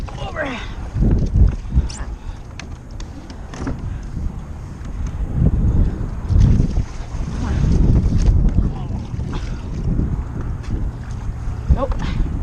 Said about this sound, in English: wind blowing way over